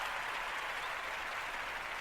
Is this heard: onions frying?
no